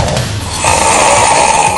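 Heavy snoring fills the recording as one loud, continuous rasping breath that swells partway through, close and harsh with no talking over it.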